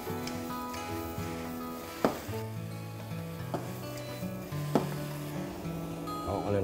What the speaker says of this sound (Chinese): 將佢可以慢慢炒散、撩鬆